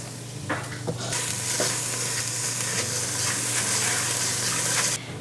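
Diced, deseeded jalapeno pepper hits a pot of oil-free vegan white chili with a few taps, then a steady, close sizzle as it is stirred, ending abruptly.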